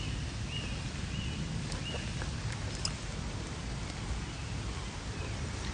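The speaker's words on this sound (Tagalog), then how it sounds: "Maulan today. Nandito lang ako sa ilalim ng puno kaya hindi masyadong nababasa." Steady rain falls outdoors, heard from beneath a tree as a constant, soft wash of patter with faint bird calls over it.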